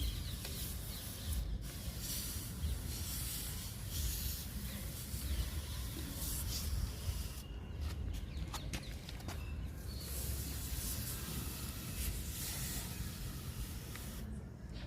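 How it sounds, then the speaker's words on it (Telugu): A hand sprayer mists a neem oil mixture over vegetable plants such as okra in a home garden, a continuous close hiss with a few brief pauses; no talking. "స్ప్రే చేస్తున్నాను"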